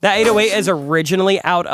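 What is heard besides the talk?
None of the usual background noises is heard.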